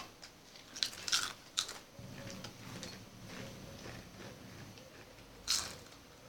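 Several people crunch potato chips in an eating challenge, with a few sharp, close bites and crunches spaced apart over a quiet background and occasional soft rustling.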